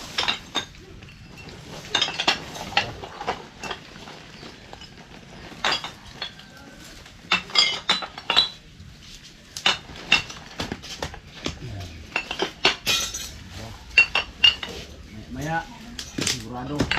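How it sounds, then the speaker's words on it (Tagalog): Many glass bottles clink and knock together in quick irregular bursts as they are pulled out and cleared away at a house, with voices talking over and between the clatter. "Tatanggal na po kami ng mga bote na madami."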